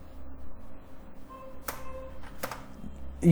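Keys clacking on a computer keyboard while Linux commands are typed, a few sharp close taps in a short burst over a quiet room hum.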